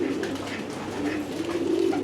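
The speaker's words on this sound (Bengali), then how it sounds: "সবচেয়ে সুন্দর দৃশ্য হচ্ছে এইটাই যে কবুতরগুলো খাবার খাইতেছে দলবদ্ধভাবে" A flock of pigeons coos while eating together, a steady, close, overlapping murmur of low coos that runs through the whole stretch with no talking.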